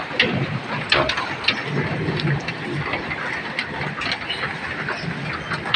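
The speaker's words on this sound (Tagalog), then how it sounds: "Pero umuulan, umuulan po yan." Steady rain patters and hisses continuously, with scattered sharper drops and a low rumbling background, no clear talking, falling during a morning of flying pet birds.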